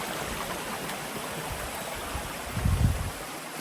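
Steady rushing of flowing river water, broad and continuous, with a brief louder gurgle or splash near the end.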